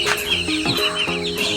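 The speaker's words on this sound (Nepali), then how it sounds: "यहाँ दाजुको चल्ला पनि रहेछ" Chickens at a rural home on a rainy evening give a quick run of high chirps and peeps, several close calls repeating steadily over a low background hum, with no talking.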